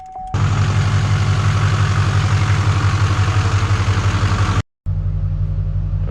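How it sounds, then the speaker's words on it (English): An LBZ Duramax diesel truck engine idles steadily and loudly up close, a deep rhythmic clatter and rumble that cuts out for a moment near the end and then carries on. "We'll fire up the truck, let it run"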